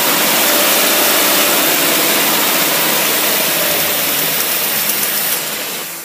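A marine engine with a Holley two-barrel carburetor and electric choke runs loud and steady, a dense broadband roar that holds even throughout and eases slightly at the very end.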